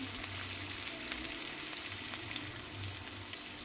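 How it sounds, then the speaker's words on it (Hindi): Onions frying and browning in a pan for karela keema, a continuous soft sizzle and crackle close by, fairly quiet and even throughout with no voices. "प्याज को ऐड करने के बाद हम इसको प्याज को अच्छी तरह ब्राउन करेंगे।"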